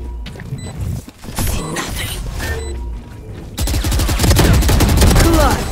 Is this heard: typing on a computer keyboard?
no